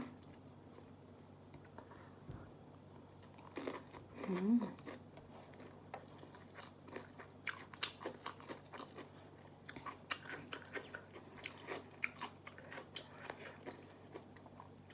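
Someone chews rice with chili paste, young sadao shoots and crunchy pork rinds, giving repeated close, crisp crunches and soft wet bites in an uneven rhythm over a low steady background hum.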